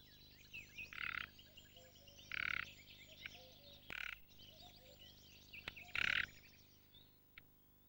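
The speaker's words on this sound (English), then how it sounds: "and also a low rattling croak." A nightingale gives its low, rattling croak call, four short grating bursts spaced a second or more apart and fairly close, over a faint background of other birds chirping and twittering.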